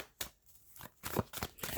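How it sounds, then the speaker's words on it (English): Tarot cards being shuffled by hand during a Virgo reading, with several quick papery riffling bursts separated by short pauses, close and fairly quiet. "I am going to put these cards back in as we shuffle"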